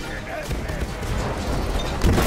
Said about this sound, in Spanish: Ahí se vienen los disparos.